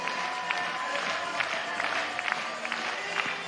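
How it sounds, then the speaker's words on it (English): Hands clap along in a large stadium crowd at a Banana Ball game, a steady dense wash of rhythmic clapping and crowd noise, moderately distant, with scattered voices mixed in. "Clap those hands."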